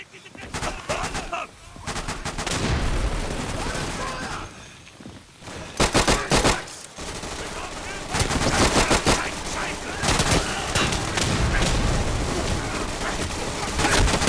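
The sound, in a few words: gunfire in video game Day of Infamy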